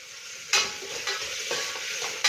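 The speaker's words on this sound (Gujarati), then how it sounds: "હવે આપણે ડુંગળી એકદમ સરસ સોતળી લેશું, બ્રાઉન કલરની થાય ત્યાં સુધી આપણે સોતળી લેશું." Onions sauté in a pan for spinach biryani with a steady bright sizzle, broken by several sharp scraping clacks of a spoon stirring against the pan. Close and alone.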